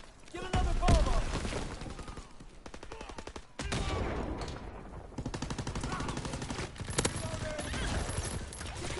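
Cannon and artillery fire in a World War 2 video game: a dense, continuous run of loud, sharp shots and blasts layered over one another for several seconds, with heavier bursts near the start.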